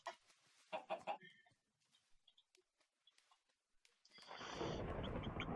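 A chicken in the FantaBobWorld video game clucks several times in quick bursts near the start, followed by scattered faint game sounds and then a loud, sustained rushing noise.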